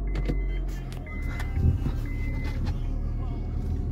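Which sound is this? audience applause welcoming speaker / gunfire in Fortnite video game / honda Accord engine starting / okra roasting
honda Accord engine starting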